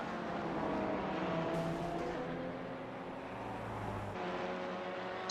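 A Porsche race car engine drones steadily in iRacing at Bathurst, holding a sustained tone with gear-change shifts in pitch, moderately near and continuous with no talk.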